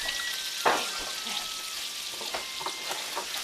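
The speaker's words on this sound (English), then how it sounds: "so we're going to let that fry for a minute" Tater tots fry in a pan beside crab-topped mahi, giving a steady crackling sizzle with sharp pops and spatters, close and moderately loud with no speech.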